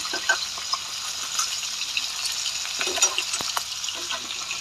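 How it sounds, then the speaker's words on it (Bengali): A katla fish head fries in oil in a pan, a close, crackly sizzle with scattered sharp spits and pops and a few spatula knocks as it is turned. "তো আমার মাছের মাথাটা ভাজি করা হয়ে গেলে"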